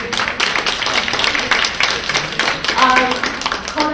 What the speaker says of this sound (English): let us give the teenager and our moderator another round of applause.